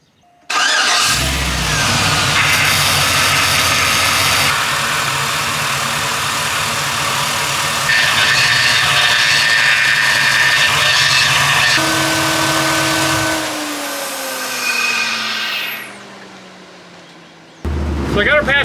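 Chevrolet C10 truck starting up and running with a faulty, badly whining power steering pump, a steady loud engine drone with a high whine on top, then the engine revs down and shuts off near the end.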